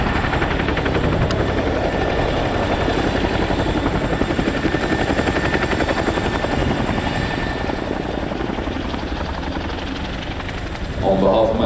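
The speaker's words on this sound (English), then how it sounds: "please put your hands together for the 2024 Chinook roll demonstration." A Chinook helicopter performing a roll demonstration at an air show, its heavy rotor thump and turbine roar loud and steady throughout, rising slightly near the end, with an announcer's voice over the top.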